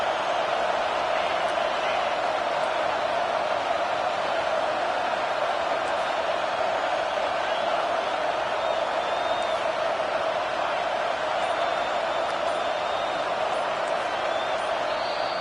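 Home crowd at a Tigers versus Badgers football game on third down, heard as a continuous loud roar of cheering and clapping that holds steady throughout with no break.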